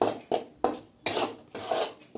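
Metal spoon repeatedly scraping and stirring roasting flour in a thin kadhai, rhythmic loud clanks and scrapes about every half second, close up and without talk.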